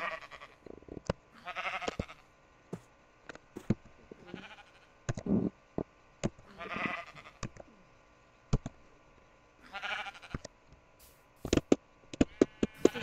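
Sheep in the Minecraft video game bleat repeatedly in short separate calls across the scene, mixed with sharp clicks and small game sounds, with no talking.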